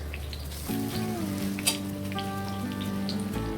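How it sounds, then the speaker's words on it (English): Banana slices frying in ghee in a hot pan, a steady crackling sizzle heard close up, with a sustained tonal hum running underneath. "Add the bananas to this"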